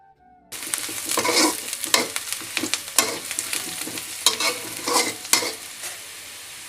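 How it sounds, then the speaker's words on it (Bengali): Onions and chilies for achari begun fry in a pan, giving a continuous sizzle broken by repeated scraping strokes of a spatula as they are stirred. "পেঁয়াজ মরিচগুলা ভাজা হয়ে গেছে"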